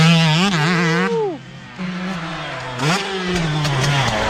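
A motocross motorcycle engine revs hard and close, drops sharply in pitch as it downshifts, then climbs again into a sustained drone.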